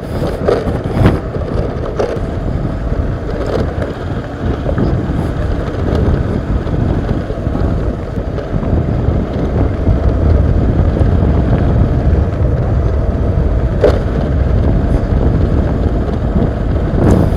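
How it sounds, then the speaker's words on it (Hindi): Cool wind blows along the bank of the Sarayu river in an Uttarakhand valley, buffeting the microphone with a loud, constant, gusting roar throughout, with no talking. "सरयू नदी के किनारे किनारे ठंडी ठंडी हवा चल रही है।"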